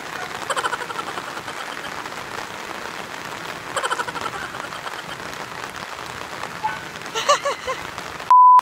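Steady rain patters continuously on surfaces nearby, a dense even hiss with a few louder bursts, faint voices underneath and a brief tone at the very end.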